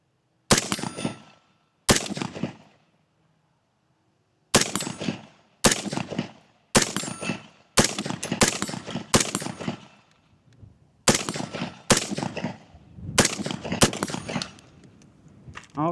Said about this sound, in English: pulled a couple shots